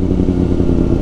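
Steady, loud engine roar from a passing inline-four motorcycle, a Kawasaki Ninja ZX-4RR, sustained close by with a dense low rumble and no voices.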